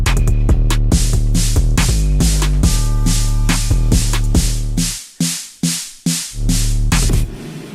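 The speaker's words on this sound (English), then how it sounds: "it turns on a filter echo and it starts the build sample here" Filter echo build effect from a Pioneer DJ FLX6-GT controller's Merge FX runs over a loud, steady dance beat. Near the end the beat breaks into rhythmic echoing swells that stutter and fade.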